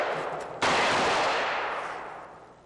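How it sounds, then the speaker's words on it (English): A C7 rifle fires at a moving target, giving one sharp, loud report that cuts in abruptly and then decays in a long echoing tail, with no voices. "continue firing until the target is hit, goes to ground, or the selected point of aim falls behind the target"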